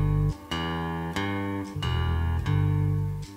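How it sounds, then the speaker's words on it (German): Electric guitar run through a Boss OC3 octave pedal so it sounds like a bass: several sustained, deep tones are plucked one after another, each ringing clearly and alone. "Das ist der Boss OC3 und das macht, dass meine Gitarre ein bisschen klingt wie ein Bass."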